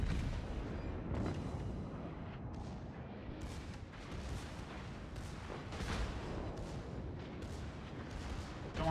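Warship secondary guns in a naval video game fire in a steady run of heavy booms and rumbling blasts, one after another over a constant low roar, with a voice talking faintly beneath.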